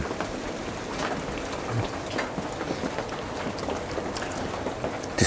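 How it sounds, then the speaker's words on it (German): Steady rain falls outdoors in a continuous, close, even hiss of countless drops, with no voices. "Es regnet nach wie vor."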